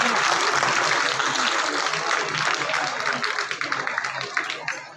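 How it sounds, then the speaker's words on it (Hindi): A village crowd at a district-level sports tournament opening gives a burst of loud, sustained applause, dense clapping that thins and tapers off toward the end. "इस गांव के लोगों के लिए जोरदार ताली बजाओ"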